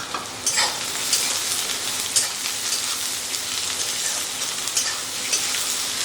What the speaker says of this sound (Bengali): এই পেঁয়াজটাকে আমি দিয়ে দেবো তেলের মধ্যে